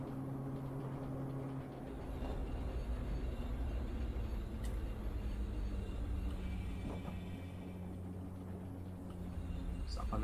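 A Croydon Tramlink tram braking on the run to East Croydon in Train Sim World, a steady low rumble with a sustained tonal drone and a soft hiss of brakes, while someone speaks over it.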